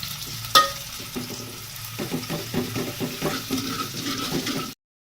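Onions being stirred and fried in a pan, a steady sizzle broken by repeated scraping strokes of a spoon, close and moderately loud, before a sudden cut to silence near the end.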